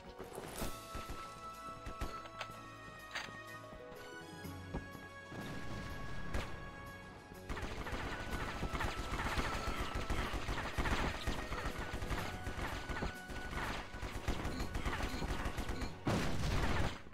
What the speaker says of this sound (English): weirdest grenade launcher I've ever held